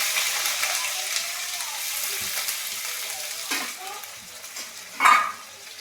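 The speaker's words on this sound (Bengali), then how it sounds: "পেঁয়াজটা ভালো করে ভেজে নিই।" Onions frying in a pan after spices have been tempered in the oil, giving a steady close sizzle throughout with a few stirring scrapes and a brief louder clatter near the end, no talking.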